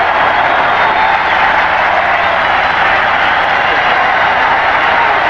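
A big football stadium crowd at a 1985 USFL game between the Stallions and the Bulls roars in a dense, steady wash of cheering and applause that does not let up.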